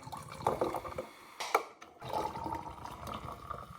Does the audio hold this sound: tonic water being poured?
yes